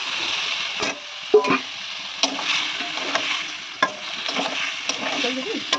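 Boiled potato and boiled vegetable stems fry in a pan with a steady sizzle, while a utensil stirs and knocks against the pan at irregular intervals.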